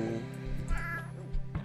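A cat meows close by in a few short, rising calls, heard during a casual tabletop board game at home.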